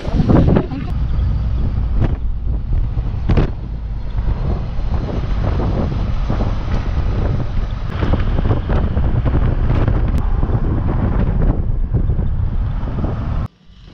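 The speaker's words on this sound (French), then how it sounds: "on ne peut pas filmer dehors parce qu'il y a énormément de vent" Strong wind roars and buffets a microphone outdoors on the Moroccan coast near Safi and Oualidia, a loud, steady rumbling blast with gusty surges that runs continuously for about fourteen seconds before cutting off abruptly.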